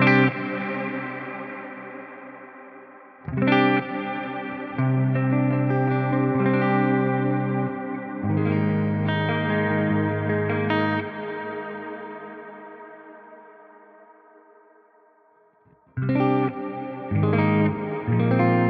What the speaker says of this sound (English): we'll have a listen to the difference between 0 and 100 on the modulation